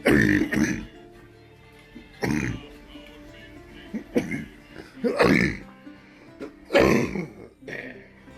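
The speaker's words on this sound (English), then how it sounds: "Sorry, I went into a coughing fit." A person coughs repeatedly in harsh, throaty bursts spread over several seconds, with throat clearing between them, close and fairly loud.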